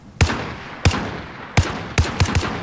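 Gunfire in the video game Call of Duty Warzone: five sharp, loud single shots spaced irregularly, the last few coming closer together, with no talk over them.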